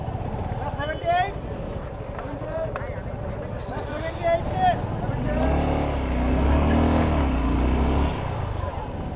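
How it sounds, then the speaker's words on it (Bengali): A Suzuki Gixxer SF 250cc motorcycle hums along on a test ride, its engine swelling into a steady low drone midway through as someone talks over it. "বাইকটা এখন টেস্ট ড্রাইভ দিব"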